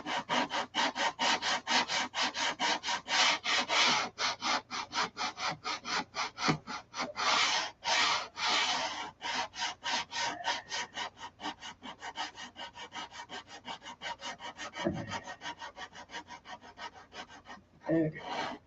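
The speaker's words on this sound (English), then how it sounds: "I need some new sandpaper on that side too." Sandpaper worked by hand over a Viper detail, a steady fast back-and-forth rasping scrub that runs nearly nonstop, loud and close, easing briefly near the end.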